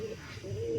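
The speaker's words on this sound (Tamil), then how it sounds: "இது பேர் வந்து பியூட்டி ஹோமர் அப்படின்னு இருக்கு" A Beauty Homer pigeon coos softly and close by at a farm, a brief low throaty warble held through the moment with faint background noise.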